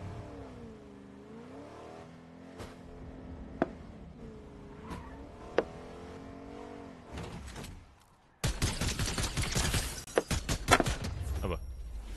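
A car engine in a video game rises and falls in pitch as it drives, with a few sharp knocks along the way, then gives way to a loud burst of dense noise near the end.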